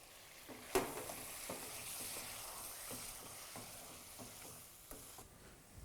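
Masala paste sizzles and is stirred in a pan of chicken masala, a quiet steady fry broken by scattered scrapes and clicks of the spoon.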